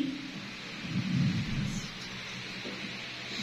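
Thunderstorm sound effect in a story, a low rolling rumble of thunder that swells and fades over steady rain hiss, moderately quiet.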